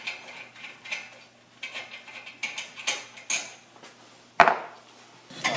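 A 14mm socket and ratchet remove the rear brake caliper bracket from the spindle of an NC Mazda MX-5. Close, intermittent metallic clicks and clanks sound in short bursts, ending in one sharp knock.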